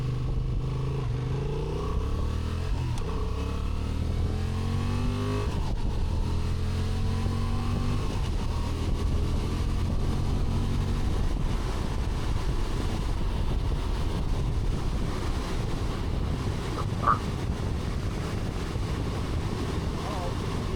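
A Honda Transalp motorcycle engine revs up through rising and falling pitch sweeps, then holds a steady drone under heavy wind rush while riding on the road.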